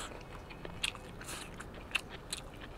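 Biting into a homemade fried chicken cutlet gives a few crisp crunches, two sharp bites standing out against quiet chewing and no talk.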